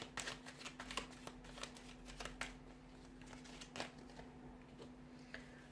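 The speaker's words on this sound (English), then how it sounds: "I'm going to give the cards a shuffle" Tarot cards being shuffled by hand, a quiet series of soft riffling flicks and papery snaps in irregular bursts, close up against a faint steady hum, with no talking.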